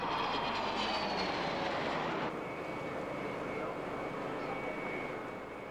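A Hawker Siddeley Nimrod jet, an RAF anti-submarine aircraft derived from the de Havilland Comet, roars loudly at the RAF Mildenhall air show in 1997, a dense continuous engine rush with whining tones that eases slightly partway through.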